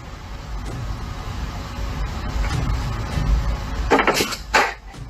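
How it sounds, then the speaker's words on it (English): A knock on a door from the other side, two or three dull, fairly loud thumps near the end after a stretch of quiet room rumble, in an alleged haunted setting. "His hand isn't even touching anything when there's a knock from the other side."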